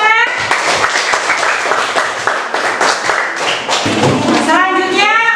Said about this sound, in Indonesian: Ayo tepuk tangannya mana?